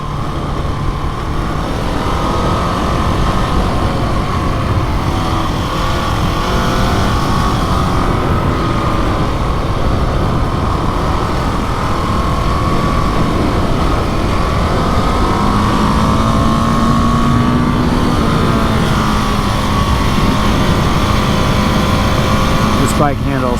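A KTM 701 Enduro motorcycle engine drones steadily while riding, loud and continuous with shifting pitch and heavy wind rumble throughout.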